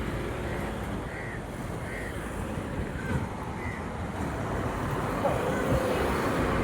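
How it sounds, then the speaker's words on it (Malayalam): Steady wind blowing across an open scenic spot with trees, a continuous broadband rush with slight gusts and faint bird calls in the background, no talking. "ഇവിടെയൊക്കെ നല്ല കാറ്റുണ്ട്, നല്ല ഭംഗിയുള്ള സ്ഥലമാണ്"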